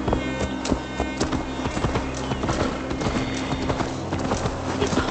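Horse hooves clip-clopping steadily in the video game Assassin's Creed Valhalla, a brisk, even rhythm of close hoofbeats over a low ambient game soundscape, with no speech.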